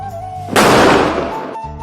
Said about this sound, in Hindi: अब हम पटाखे चलाते हैं दोस्तों के साथ